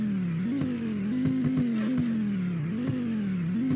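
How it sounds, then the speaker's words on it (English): A turbocharged 2008 Dodge Viper in the Greenville driving game gives a loud, steady engine drone that rises and dips in small revving swells, alone without voices. "Jeez, that sounds so good. I can't get enough of the dang turbo."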